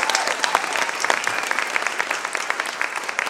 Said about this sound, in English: Everybody give all these young folks here a great round of applause.